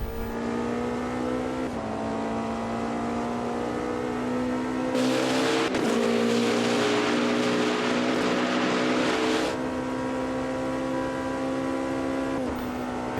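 A race car engine in the Le Mans Ultimate racing sim drones steadily at high revs, shifting pitch through gear changes, with a brief louder, rougher burst in the middle; no voices.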